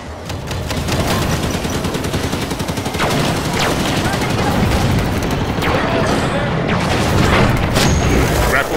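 Dense, sustained gunfire in Halo 5: Guardians, aimed at a gravitational core: loud, continuous automatic shots with sharp booming impacts over a busy combat din, and a voice briefly heard amid the firing.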